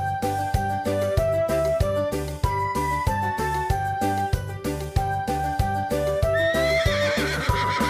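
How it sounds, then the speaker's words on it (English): A horse lets out a high, shaky whinny near the end, rising clearly over a rhythmic, upbeat background tune that runs throughout. "The horse is a strong animal."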